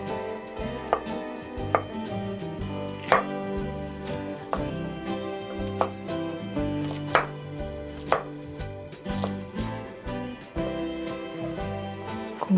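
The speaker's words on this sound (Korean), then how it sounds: "야채 써는 동안" A knife chops vegetables on a board for a turmeric curry, giving steady, close, rhythmic cutting knocks over a continuous tonal background, with no talking.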